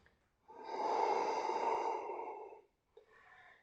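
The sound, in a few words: deep breathing during a yoga sequence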